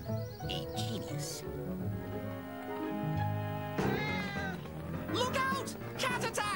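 A cartoon cat meows and yowls in a Country Mouse and City Mouse animated adventure, with drawn-out wavering cries over busy orchestral music, loud and close.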